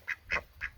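Ducks in a garden give three short, nasal quacks in quick succession, close by and alone.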